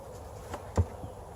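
Honeybees hum faintly and continuously during a hive inspection, with a close thump from the boxes partway through.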